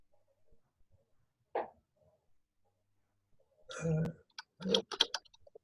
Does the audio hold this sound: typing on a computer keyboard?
yes